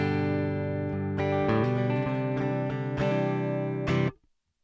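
Clean electric guitar through an amp with a Joyo AC tone pedal switched off, sustained strummed chords ringing alone at a steady level before cutting off near the end.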